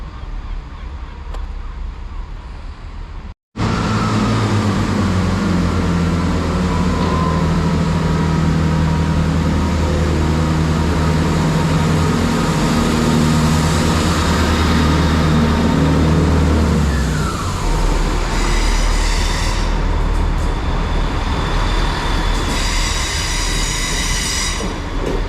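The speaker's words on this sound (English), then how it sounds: "there goes 166213 on the 1222 Great Western Railway service to Pinhoe from Exeter." Great Western Railway train 166213 departing Exeter for Pinhoe, a loud, close diesel rumble with rolling wheels that builds and passes, ending with squealing wheels and fading engine noise.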